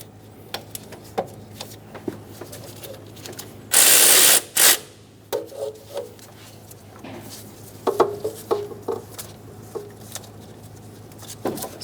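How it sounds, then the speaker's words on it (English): A ratchet loosens the belt tensioner on a 1994-1997 Honda Accord 2.2L four-cylinder engine: a loud, close burst of ratcheting clicks with scattered metallic taps and tool handling around it. "We're going to loosen this and take the tension off the belt."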